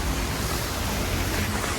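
Rainwater outside on a road during a rainy day: a steady, dense wash of hiss and rumble, loud and unbroken, with no voices over it.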